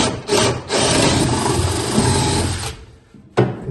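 A power drill bores at the back of an oven being built for a project in Portugal, running in one steady, loud burst of about two and a half seconds, then a short pause and a second start.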